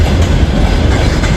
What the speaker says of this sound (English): We were on this here, I believe is a Swiss train.